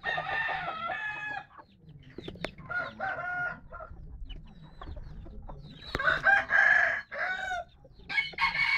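Fighting roosters crow and cluck close by in repeated bursts separated by short pauses, with a low background murmur.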